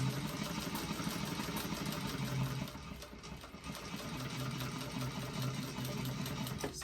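A sewing machine back stitches through a bag lining, its close mechanical whirr running in bursts with a brief pause in the middle, and no one speaks.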